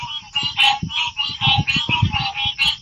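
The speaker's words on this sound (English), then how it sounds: "all you can hear is the chirping of the frogs" Frogs chirp at night along Florida's St. Johns River in a dense, pulsing chorus of rapid repeated calls, steady and fairly close, with low rustling underneath and no talking.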